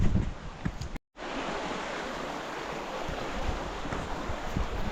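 A river runs through a village, a steady broad rush of flowing water with wind buffeting the microphone, briefly cut off near the start and then continuing unbroken.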